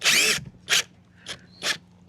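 Power drill driving screws through deck boards into I-beams on a navy barge houseboat exterior, four short loud whirring bursts separated by pauses, close up with no talking.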